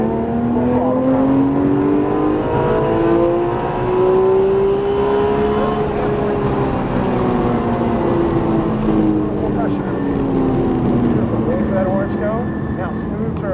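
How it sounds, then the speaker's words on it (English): A manual Toyota Supra accelerates hard at full throttle, its engine note rising in steady sweeps and staying loud and continuous throughout, with a person speaking over it. "Add power. Add more. And full throttle power."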